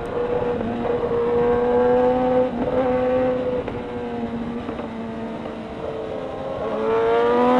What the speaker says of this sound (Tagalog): Sasakyan, may kotse.